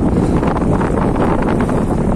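Strong storm wind roars across a small boat, a dense, continuous rushing and buffeting with rattling, loud and close to the microphone throughout.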